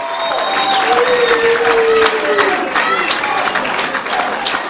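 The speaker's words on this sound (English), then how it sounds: "The crowd showing their appreciation for this match for both competitors." A wrestling crowd applauds a match between Ricochet and Smiley, sustained loud clapping and cheering filling the arena, with commentators talking over it.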